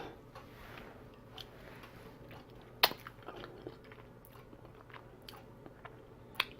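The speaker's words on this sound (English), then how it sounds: "Let's give it a taste." Deviled eggs being bitten and chewed up close, a sharp bite followed by soft, irregular chewing and small crunchy clicks, quiet with no talking.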